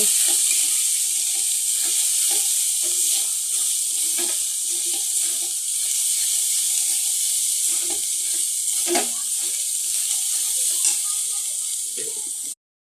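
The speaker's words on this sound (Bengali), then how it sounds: "তারপরে হলুদ দেব, একটু নাড়াচাড়া করে নেব।" Spiced food fries in a pan with salt and turmeric added, a constant bright sizzle running throughout with repeated light scrapes and taps of stirring; no talking is heard.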